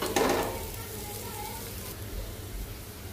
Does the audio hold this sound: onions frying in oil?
yes